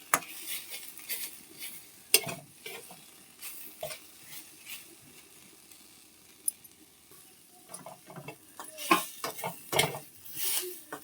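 Shushni greens stir-fried in a pan, with soft intermittent sizzling, repeated spatula scrapes and clinks of metal on the pan, irregular and fairly quiet throughout.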